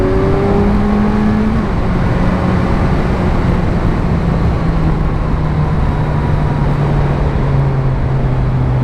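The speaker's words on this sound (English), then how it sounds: "You can just hear the roar of that bike is so nice." A 2017 Kawasaki Z900 motorcycle engine drones loudly and steadily while riding, its pitch rising and settling in long sweeps under heavy rushing wind, with no one speaking.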